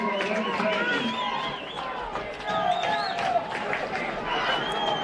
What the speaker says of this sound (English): the crowd kind of just turning it up there